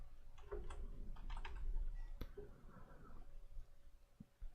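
A computer keyboard is tapped softly in short irregular runs while a search box is filled in during a MongoDB setup, faint and close, with a few louder isolated key clicks.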